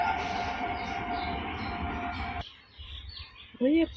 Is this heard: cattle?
no